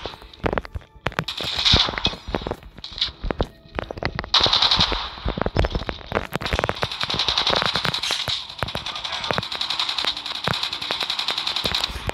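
RPD light machine gun with a 100-round belt firing in the mobile shooter COD Mobile, long loud sustained bursts of rapid automatic fire with short gaps between volleys, no talking.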